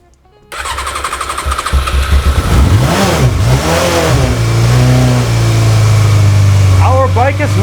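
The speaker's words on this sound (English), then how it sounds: "Our bike is running!" A cheap 350-euro motorcycle engine with the choke pulled out coughs into life, revs up and down in several rising and falling bursts, then settles into a loud, steady close running note.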